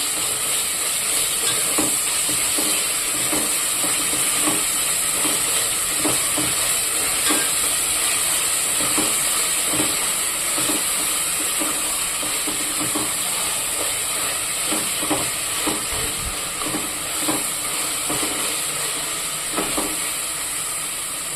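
Vegetable rice ingredients with ginger-garlic paste frying in a pan, a constant loud hiss and sizzle with faint scraping stirs running underneath, no voices.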